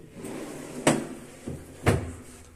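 A bathroom vanity drawer in a newly handed-over TOKI apartment is worked open and shut, giving two sharp wooden clunks about a second apart with a softer knock between them, close and otherwise quiet.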